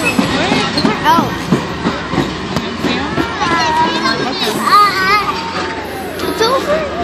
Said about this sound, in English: That's a regular train that they decorate.